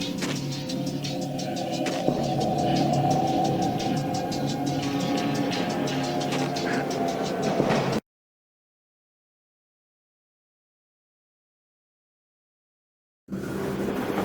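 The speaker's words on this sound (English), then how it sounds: "This was my second train ride of the night." Train ride in the Max Payne video game, heard as a steady rumbling drone of rail carriage and track noise. It runs evenly for about eight seconds, cuts to silence, then resumes briefly at the end.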